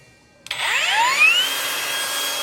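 An INGCO 20V brushless cordless angle grinder starts with a click and spins up into a loud, steady high-pitched whine that holds constant while running unloaded nearby.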